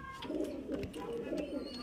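Highflyer Giribaz pigeons in Beldanga coo in low, throaty, repeated bursts as they are released, with a voice talking over them.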